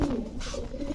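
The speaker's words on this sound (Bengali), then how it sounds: "সাপ চোখের একটা মাদি কবুতর" A black Gorra female pigeon with snake-like eyes gives a brief, low, close cooing call, a soft throaty burst lasting about a second.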